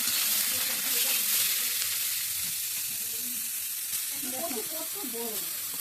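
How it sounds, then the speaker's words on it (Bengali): Fish head and fenugreek greens fry together in a pan over a wood fire, a continuous close sizzle and hiss with occasional stirring scrapes beneath it. "মাথা দিয়ে একসঙ্গে ভেঙে চুড়ে ভেজে নিচ্ছে দেখো"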